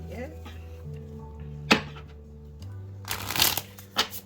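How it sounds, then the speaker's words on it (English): A tarot card deck is shuffled by hand, giving a loud, rapid riffling burst with several quick card flicks afterward, over steady background music. "What other messages do we have for Aries here with this card deck? Let's shuffle."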